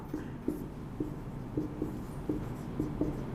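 Pen or marker writing on a board or paper during a trigonometry lesson, with soft repeated scratchy strokes at a steady rhythm, close and moderately quiet, no talk.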